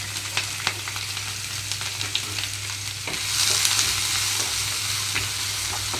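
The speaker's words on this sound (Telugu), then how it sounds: "మీడియం ఫ్లేమ్లో ఉంచి ఉల్లిపాయలు పచ్చిమిరపకాయలు వేగే వరకు మూత పెట్టి ఉంచుతున్నాను" Onions and green chillies fry in oil with mustard seeds and curry leaves, a close sizzle dotted with sharp pops and ticks that swells into a louder, denser hiss partway through.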